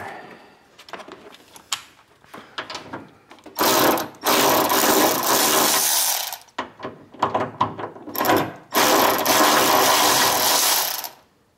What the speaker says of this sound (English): You take your ratchet, unscrew that.